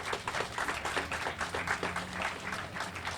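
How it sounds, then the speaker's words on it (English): Moderate audience applause at a public event with Connecticut's governor, steady rhythmic clapping from a crowd, fairly quiet and distant, lasting a few seconds without talk. "Big round of applause for Governor for that initiative"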